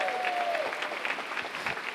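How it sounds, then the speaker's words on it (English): Audience at a UCSF commencement applauding, a dense wash of clapping filling the room, with a brief whistle-like tone at the start. "that deserves a round of applause."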